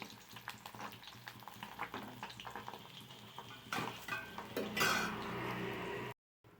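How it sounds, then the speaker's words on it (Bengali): Pabda fish frying a second time in a pan, with steady sizzling under stirring and clinking of utensils against the pan, close and fairly quiet, ending in a brief silence. "পাবদা মাছ কটাকে আমি আরেকবার ভেজে নিচ্ছি।"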